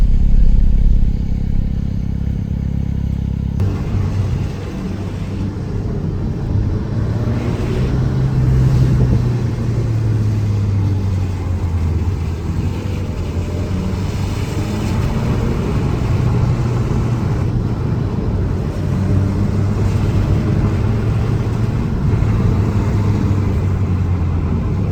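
Alpine sports car engine running hard on a snowy mountain road at about 2000 m, a steady loud drone with clattering exhaust pops and crackles scattered throughout, close and continuous with no talking.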